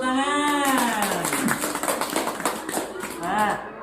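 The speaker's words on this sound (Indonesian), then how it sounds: "Tepuk tangan" Children in a Year 6 Indonesian-language class applaud after a correct answer, giving a quick run of brisk claps that follows a long, rising-and-falling voice and fades into another drawn-out voice at the end.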